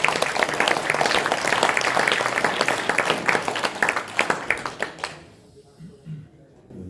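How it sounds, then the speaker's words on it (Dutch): An audience applauds at a book presentation, with dense, sustained clapping that thins toward the end into a few scattered claps before fading to a quiet room. "Applaus voor deze"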